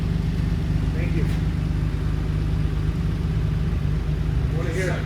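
A Nissan Stagea's RB26DETT engine idles with the exhaust removed, a loud, steady low rumble running throughout, with brief voices talking over it.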